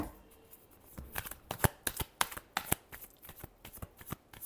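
Tarot cards being shuffled up close, a quick run of crisp riffling slaps and flutters in an irregular rhythm, with no talking over them.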